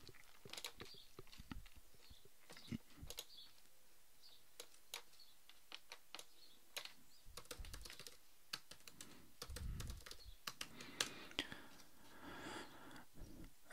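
Passwords being typed on a computer keyboard during a VMware Horizon View 6 connection server install, with quiet, close key clicks in uneven bursts and short pauses over a faint room hum.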